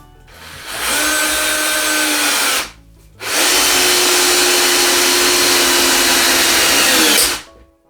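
Bosch Universal Impact 18V cordless driver on its safe torque setting drives a screw in two sustained whining runs, loud and close, with a brief pause between them.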